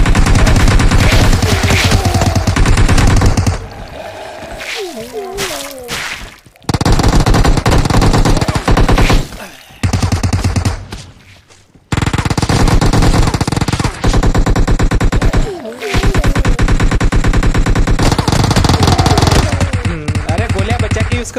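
SMG bursts rattle loudly in PUBG Mobile zombie mode, long rapid-fire strings of gunfire broken by brief pauses, with game sounds between volleys.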